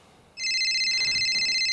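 A telephone starts ringing with a bright, steady electronic trill that holds unbroken to the end, fairly loud over a quiet room.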